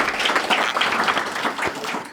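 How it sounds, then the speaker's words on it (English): A short burst of applause for students at a youth climate summit in Cleveland, clapping hands close and fairly loud for about two seconds. "Please give a round of applause to all the students that have been working on this for a long time."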